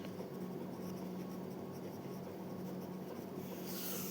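Pen or pencil writing the word "adjust" on paper, a steady close scratching and rubbing that runs continuously and fairly faintly, with no talking.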